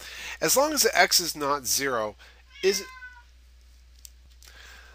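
A pet cat gives a short meow, heard at a moderate level right after a person finishes speaking, followed by quiet.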